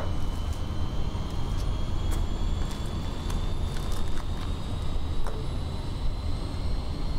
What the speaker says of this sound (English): Hear the APU starting.